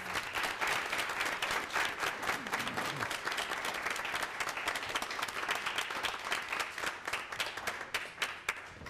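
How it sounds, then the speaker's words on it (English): Loud, continuous applause fills a school board meeting room as the JV boys team is introduced, many hands clapping steadily for several seconds. "if you'd like to give them a round of applause."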